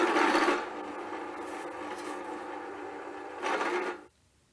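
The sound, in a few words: filing burrs off metal plate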